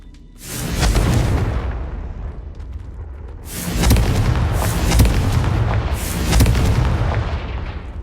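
Confringo fire spell blasts in the video game Hogwarts Legacy, heard as three loud booming explosions with roaring, crackling tails, each one swelling and fading over several seconds, with no talk over them.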